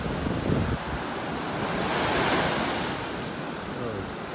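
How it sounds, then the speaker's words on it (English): Ocean waves break steadily on a beach in North Naples, Florida, a continuous broad wash of surf with wind noise on the microphone and no clear pauses. "Love the sound of the waves out here in the morning."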